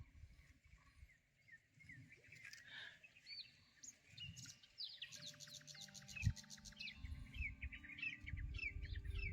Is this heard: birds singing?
yes